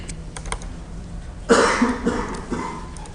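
Keys tapped on a computer keyboard in an office, a few light clicks, then a cough and throat clearing overlap the louder part.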